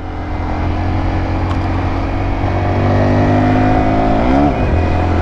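A Honda Dax motorbike with 12-inch wheels accelerates, its engine a loud steady buzz that climbs in pitch and then shifts near the end, heard up close with no talking.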